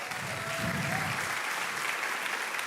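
Audience applause at a church service, a steady wash of clapping from a large crowd, loud and even for about three seconds with no speech over it.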